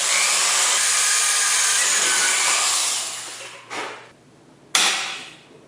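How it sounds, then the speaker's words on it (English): A power drill bores into one side of a metal tube clamped in a bench vise, a loud continuous whine that cuts off, followed by a short burst and a final brief run. "Keep in mind I'm not drilling through the entire tube,"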